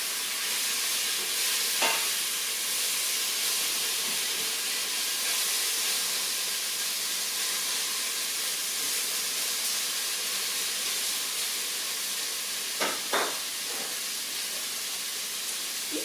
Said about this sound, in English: I'm getting all this browned up.